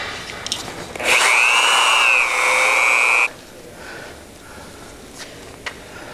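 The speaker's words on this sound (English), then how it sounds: "I'm going to just drill right on through." A drill with a 3/8-inch bit bores through rubber belting and a steel snowplow channel, a loud steady whine rising and holding for about two seconds before cutting off, with faint shop clatter after.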